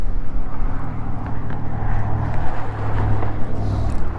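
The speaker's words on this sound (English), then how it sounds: "Way too much wind now." Strong wind gusting across open ice on a winter walleye fishing outing, a steady low roaring rumble with buffeting surges, close and loud throughout with no talk.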